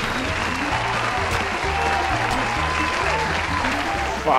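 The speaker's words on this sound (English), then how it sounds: "Crowd goes wild, man." Spectators at a cage fight in GTA Online cheer and applaud in a sustained, noisy crowd roar over a pulsing low beat, with a brief sharper burst near the end.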